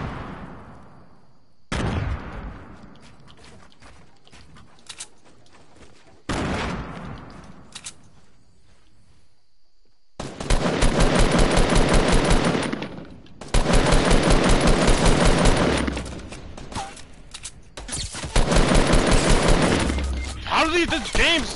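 Rapid automatic gunfire from an online squad shooter video game bursts in several loud, sustained volleys separated by brief quieter gaps, with a player talking between them.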